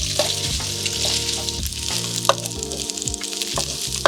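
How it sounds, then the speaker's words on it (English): Dumplings sizzle steadily in a hot frying pan, a constant crackling hiss with occasional pops and light clatter, close up and without talk. "toss the dumplings in first. Get that nice little sizzle going"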